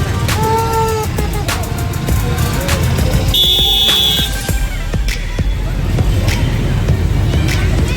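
Car horns honk repeatedly in busy Gujarat traffic, short and long blasts at different pitches over steady engine and road noise.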